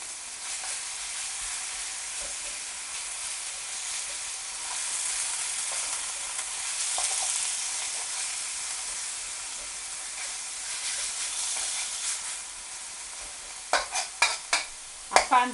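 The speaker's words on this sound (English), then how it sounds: "We want it to sizzle." Minced beef sizzles steadily in a hot wok with a continuous frying hiss, followed by a few sharp scraping knocks of stirring at the end.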